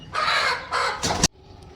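Loud, harsh bursts of hen and chick calls, three close squawking outbursts in quick succession, then a sudden drop to quiet background with faint rustling.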